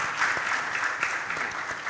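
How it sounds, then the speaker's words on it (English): A round of applause from the audience at an MTN Pulse youth entrepreneurship talk event, dense and continuous clapping that holds steady, moderately loud and unaccompanied by talk. "Please, round of applause."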